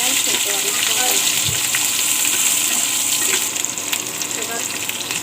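Chopped onion and chili frying in oil for a banana dish, a loud continuous hiss and crackle that eases slightly toward the end.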